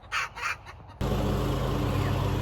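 Chickens cackling and clucking at a backyard poultry processing day with meat birds and roosters, a couple of short bursts followed by a loud, steady, noisy stretch.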